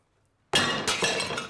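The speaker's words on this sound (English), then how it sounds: "My best china smashed to smithereens" After a moment of silence, china dishes smash loudly nearby, a sudden crash followed by scattering, clinking shards and a second burst of breakage.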